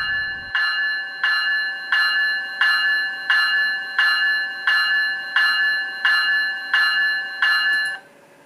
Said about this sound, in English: Add 64 to CV48 to change to the Graham White E-Bell.